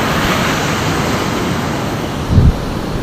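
Steady broadband wash of fairly rough ocean surf at a campsite with a soft low rumble swelling near the end, no voices, waves rolling in continuously.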